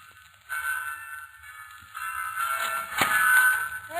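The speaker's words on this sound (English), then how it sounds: "the bells have started" Church bells ring in a radio drama, a steady, sustained tonal peal with bright overtones that swells partway through and carries on without any talk.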